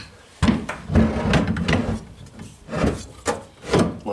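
A rack slides over plastic bushings with a close, dry scraping rub that comes in several uneven strokes, alongside a few knocks and handling sounds.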